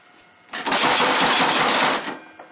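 A homemade two-stage compressed air engine built from a compressor roars to life, a loud, dense rapid chattering whoosh that holds steady for about a second and a half before dropping off abruptly.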